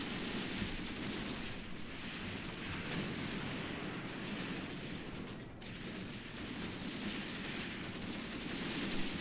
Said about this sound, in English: Our most distant unit is being targeted with artillery.